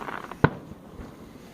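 A single firework bursts at a Canada Day display in New Brunswick, one sharp loud bang standing out against low outdoor rumble and faint crackle.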